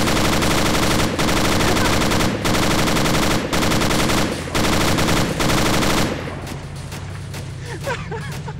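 A rear-mounted machine gun fires in long, loud sustained bursts with brief pauses, then cuts out as rumbling vehicle noise and scattered impacts continue in a chaotic game firefight.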